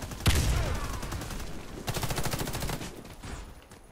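Gunfire rings out in the online shooter Warface: a sharp, loud opening shot, then rapid automatic bursts that crackle and fade over a few seconds.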